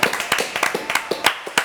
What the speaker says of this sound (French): Allez, applaudissements